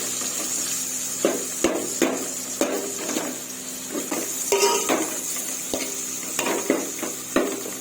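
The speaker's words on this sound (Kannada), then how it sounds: "ನುಗ್ಗೆ ಸೊಪ್ಪು ಒಗ್ಗರಣೆಗೆ." Chopped drumstick leaves sizzle in hot oil as a tempering in a home kitchen, a steady frying hiss broken by repeated sharp clinks and scrapes of a ladle stirring against the pan.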